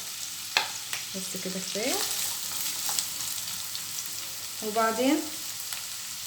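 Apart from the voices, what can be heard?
onions frying in hot oil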